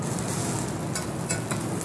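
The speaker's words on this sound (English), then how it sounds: "Everything's still grilling on that grill top, sizzling," Kobe beef sizzles on a hot grill top at a steakhouse, a steady, close hiss of frying with faint crackles and brief louder spits.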